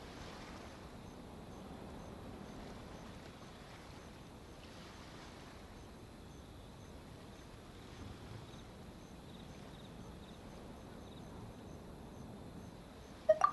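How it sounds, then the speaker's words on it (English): Gentle ocean waves wash steadily at Liyue Harbor in Genshin Impact, a soft continuous surf with faint wind, fairly quiet throughout, ending in a couple of brief sharp clicks. "Oh, and the sound of the waves."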